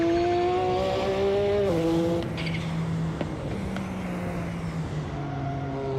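A turbocharged car engine revs in Assetto Corsa, a sustained tonal drone that shifts pitch down across gear changes and then holds steady, loud and continuous with no talk.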